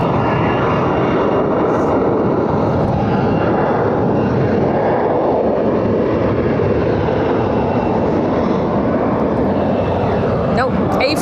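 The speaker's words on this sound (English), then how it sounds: "A321 going back to Madrid" Airbus A321 airliner taking off from Barcelona airport, a loud, steady broadband engine roar filling the whole stretch without a break, with a little talk faintly audible beneath it.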